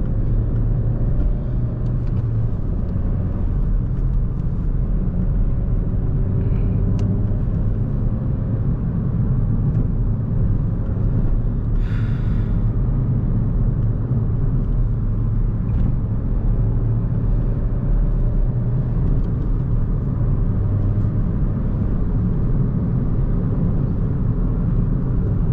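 Steady low rumble of a car driving along in third gear, heard from inside as a constant engine and road drone throughout with no talking.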